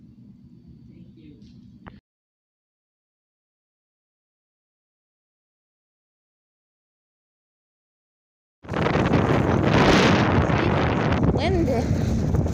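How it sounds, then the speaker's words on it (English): Strong wind blows outdoors against the microphone, a loud, close, continuous rumbling buffet that starts suddenly after a long silence, with only a faint low hum heard earlier. "Windy."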